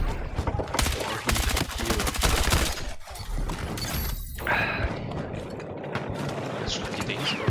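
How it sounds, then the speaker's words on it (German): Heavy gunfire and tank cannon shots in a Battlefield battle, a dense stretch of rapid firing followed by scattered blasts and crashing debris, loud and near throughout. "Das sind die Dinge, die schießen, die Panzer da."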